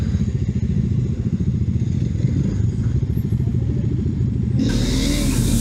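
A Bajaj Dominar D250 250cc motorcycle being ridden on the Kemer road: a loud, steady, throbbing engine drone close by, with a rush of wind noise rising near the end.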